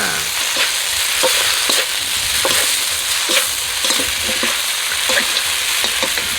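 Korat noodles being stir-fried with holy basil and crispy pork in a hot pan, a loud, dense sizzle broken by rhythmic scraping strokes of the spatula, close and continuous.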